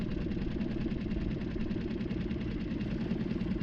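Outboard motor on a small fishing skiff off Central California, running steadily close by with an even, rapid throb after being shifted into gear, with no voices.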